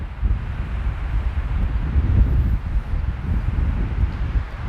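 Steady wind buffeting the microphone on a canyon rim in Arizona, a continuous low rumble with gusty swells and no voices.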